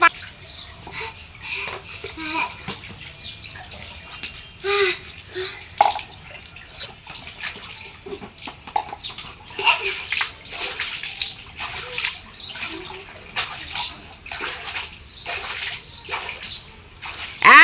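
Two young sisters bathing in a makeshift pool, splashing and sloshing water continuously with drips and bursts of movement, while children and an adult talk throughout.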